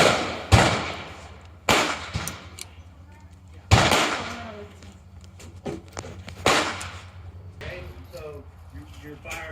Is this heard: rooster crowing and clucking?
no